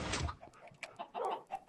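Minecraft chickens clucking in a farm puzzle game, a run of short choppy clucks over about two seconds, close and clear with no speech.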